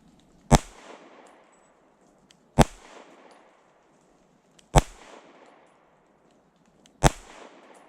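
A Fusion Firearms XF Pro pistol fires 124 grain Fiocchi rounds: four sharp, loud single shots spaced about two seconds apart, each followed by a short echoing tail outdoors.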